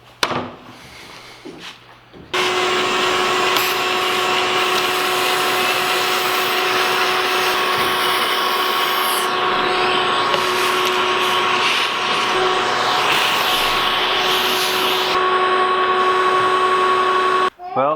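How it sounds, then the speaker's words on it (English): A power drill bores hinge cup holes in cabinet doors, starting after a short pause with a loud, steady high-pitched whine that holds for about thirteen seconds before cutting off, close and alone. "the only major task is getting all of these hinge cups drilled"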